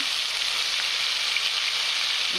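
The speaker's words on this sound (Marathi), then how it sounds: "कढईत तेल टाकलेलं आहे आणि असं तेल कडकडीत टाकलेलं आहे" Steady, loud sizzling of ground ginger, garlic, onion, tomato, coconut and coriander paste frying in very hot oil in a kadai, a dense crackling hiss that holds evenly throughout with no voices.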